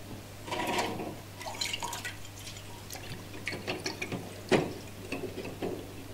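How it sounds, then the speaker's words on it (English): Small wall clock parts, including wheels, barrel and cap, swirled in a dish of cleaning solution for ultrasonic cleaning; faint liquid sloshing and drips with soft clinks, quiet and close, no voices. "Place the rest of the parts into the final clean dish. Swirl them around a little bit."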